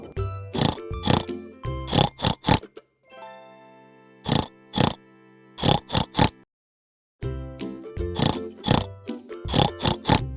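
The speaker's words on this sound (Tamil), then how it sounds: "பன்றி" A pig oinking and grunting in repeated bursts of short rough snorts, loud and close, separated by brief pauses and one silent gap.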